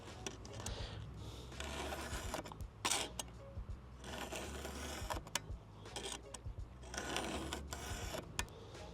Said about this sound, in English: straight into the filing